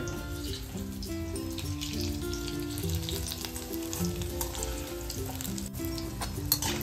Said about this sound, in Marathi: इथे तुम्ही पाहू शकता मिरच्या अगदी छान अशा फ्राय झालेल्या आहेत